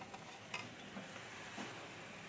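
Fried potato and young jackfruit being stirred into spice masala in a pan, giving soft scraping and faint sizzling with a few light clinks of the spoon, quiet and close with no voices.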